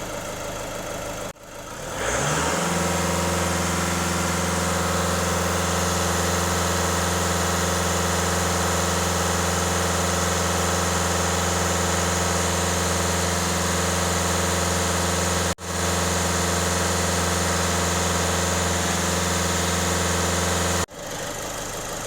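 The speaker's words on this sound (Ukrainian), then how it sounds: "Так, автомобіль зараз прогрівається." A VW diesel engine with CAYC code idles while warming up, a loud steady low drone with constant harmonics. It starts up after a brief gap near the beginning, runs evenly and cuts out momentarily twice.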